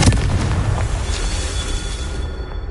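A Confringo fire spell explodes in Hogwarts Legacy with a loud, close, booming burst that rolls into a dense rumble and fades over a couple of seconds.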